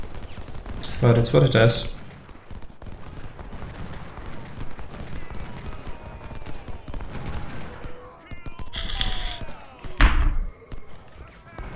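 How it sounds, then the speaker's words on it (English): Volleys of gunfire in the Civil War strategy game Ultimate General: Civil War, aimed at militia: two loud crackling bursts, one early and one near the end, with a voice talking throughout. "They're shooting the militia and doing basically no damage."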